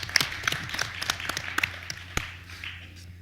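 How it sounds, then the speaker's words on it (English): A conference audience applauds. The clapping is sustained and dense from a room of people, with sharp individual claps standing out before it thins toward the end. "Give Doris Bailey a round of applause."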